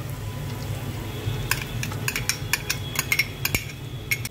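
Pink fried onions in a pan with ginger, garlic and green chili paste for restaurant-style chicken handi, a soft steady sizzle under sharp clinks and scrapes of a metal spoon stirring against the pan.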